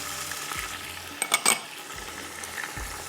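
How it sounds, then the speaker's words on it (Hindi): Mutton fries in a pot with ginger garlic paste, bay leaf and cardamom, giving a soft, steady sizzle with a brief cluster of metallic utensil clinks in the middle. "थोड़ा इसको भूनना है गोश्त को।"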